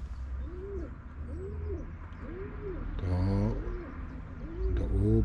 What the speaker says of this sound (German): Es sind allerdings Tauben, die sich hier niedergelassen haben.